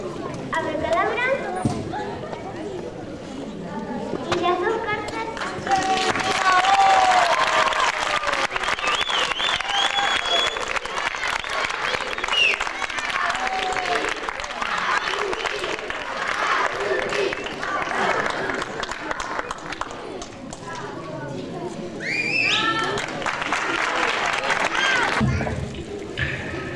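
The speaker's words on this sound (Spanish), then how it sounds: "quiero un fuerte aplauso para él" Sustained audience applause at a magic show in a theater, a steady wash of clapping lasting the whole stretch with crowd noise, dipping briefly near the end before swelling again.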